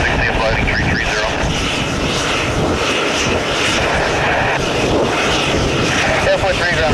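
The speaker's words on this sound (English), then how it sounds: "Southwest 737 pushing back." A Southwest Boeing 737 airliner at an airport gives off a steady, loud roar of jet engines, a broad continuous rumble with no clear breaks.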